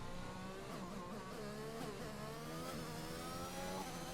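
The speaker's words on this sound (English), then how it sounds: "He isn't getting the revs. He's short shifting it effectively." Race car engine in a racing video game, revving steadily and short shifting with repeated quick rises and drops in pitch, loud and continuous throughout.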